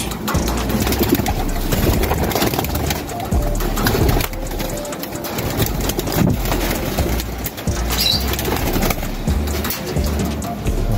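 Pigeons entering a loft trap after a morning loft flight, with steady cooing and wing flutters against a busy backdrop of shuffling and knocks, fairly close and continuous.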